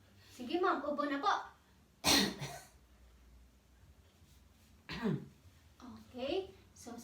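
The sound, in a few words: patient coughing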